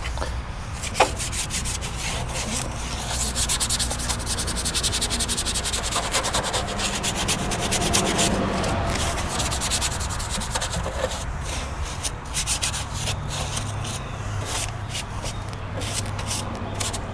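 A dirty blower wheel being scrubbed, producing continuous close, raspy rubbing and brushing strokes with rhythmic scratchy bursts throughout and a faint hum underneath.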